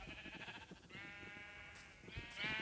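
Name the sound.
sheep bleating in Minecraft, a video game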